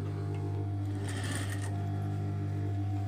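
A sewing machine stitches a crop top, its steady motor hum running throughout with a brighter burst of rapid needle clatter in the middle, close and alone with no talk.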